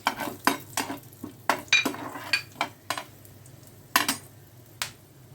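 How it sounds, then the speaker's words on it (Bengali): Whole bay leaf, black and green cardamom, cloves, cinnamon and peppercorns are dropped into hot mustard oil for dhaba-style aloo dum, giving sharp spoon-and-pan clinks over a soft, faint sizzle, with no talking. "এবার আমি ফোড়ন দিচ্ছি তেজপাতা, বড় এলাচ, ছোটো এলাচ, লং, দারচিনি, আর গোলমরিচ।"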